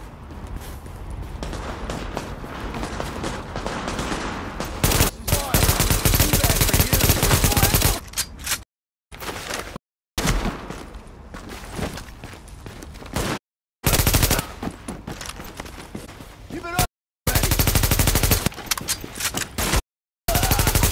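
Heavy automatic and burst gunfire in the video game The Division, loud and dense, with rapid machine-gun volleys and shots broken by short silent gaps, no talk.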